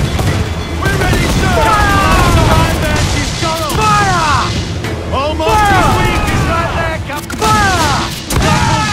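Ship cannons in the naval game Assassin's Creed Black Flag fire in heavy, repeated booming volleys during a chaotic sea battle, with shouted voices and other battle noise throughout.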